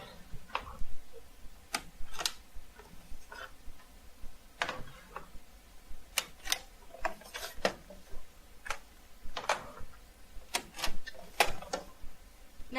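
Ink cartridges being pressed and pulled out of an Epson ColorWorks C7500 label printer, giving a run of sharp plastic clicks and ticks, some louder than others, scattered irregularly over quiet mechanical rustling with no talk.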